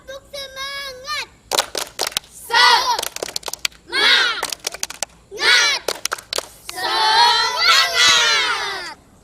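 Children in a Sunday-school class chant and clap the 'tepuk semangat' routine together, bursts of shouted voices alternating with quick clap patterns, loud and close, ending in a sustained group shout.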